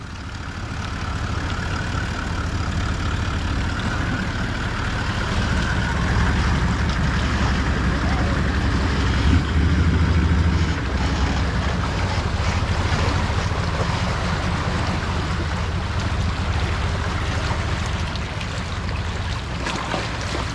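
A four-wheel-drive vehicle on a Cape York track pushes through water, giving a loud continuous rushing wash and splashing over a low engine rumble for about twenty seconds, with wind buffeting the microphone.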